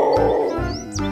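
A leopard roar effect plays from a toy animal: rough, grunting roars in two or three bursts, loud and close, with no speech.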